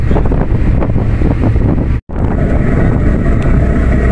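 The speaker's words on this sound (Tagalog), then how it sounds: "napakalakas ng hangin dito" Heavy wind in Roxas, Mindoro buffets the microphone in a loud, constant roar, broken by a split-second dropout midway, with no voices.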